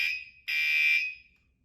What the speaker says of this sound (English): Alarm just going off.